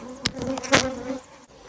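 Honeybees buzz steadily and close at a hive, a dense humming drone with a couple of louder passes near the hive.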